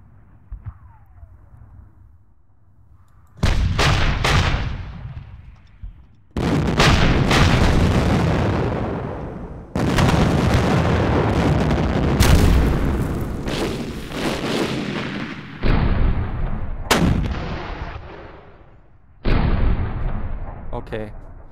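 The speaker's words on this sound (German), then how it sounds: "Artillerie." Artillery salvos in a John Tiller Japan 46 wargame, each loud broadband boom rolling out for a couple of seconds, repeated about seven times after a quiet opening, with bursts following one another closely.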